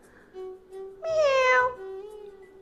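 A cat lets out one clear, drawn-out meow that bends downward in pitch, close and loud, over a soft, steady background tone.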